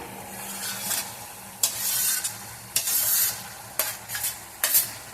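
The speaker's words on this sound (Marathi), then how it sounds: "मेथी रोल मिक्स करून घेऊया एकदम अलगत हलक्या हाताने मिक्स करायचे आहे" Fenugreek rolls stirred gently into an oily masala gravy made with yogurt in a pan, giving soft scraping strokes with several sharp spoon clacks over a steady low sizzle, with no talking.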